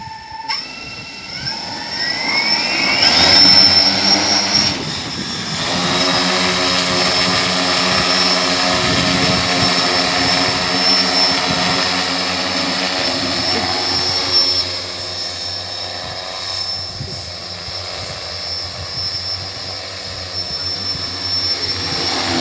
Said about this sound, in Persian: همونطور که میبینید ما پهپاد سمپاش داره علفکش اوتلو میزنه